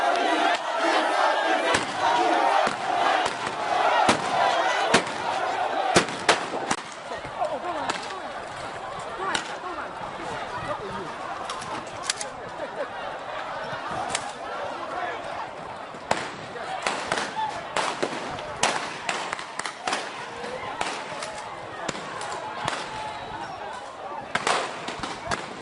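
Police warning shots and tear gas fired to disperse a crowd of traders: a loud, agitated crowd shouting throughout, punctuated by repeated sharp cracks and bangs.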